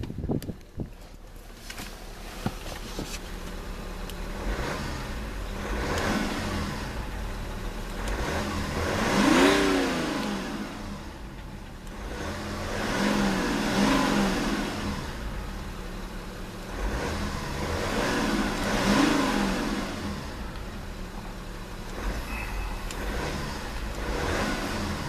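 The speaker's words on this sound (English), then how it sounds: "let's see about a good couple of revs of that turbo diesel inline 6-cylinder" A 2010 BMW 335d with a turbo diesel inline six-cylinder engine revs repeatedly from idle, rising and falling in three or four long, smooth swells that carry a steady mechanical drone throughout.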